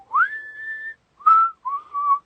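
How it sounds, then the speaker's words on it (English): A person whistles a tune alone: one long sustained rising note, then two shorter clear phrases with brief pauses between them, close and fairly loud. "I remember just whistling a tune"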